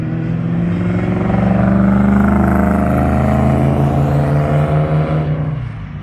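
A Lamborghini drives round the Three Sisters race track, its engine a loud, close droning growl that swells as the car comes nearer, holds its pitch with slight rises, then fades at the end.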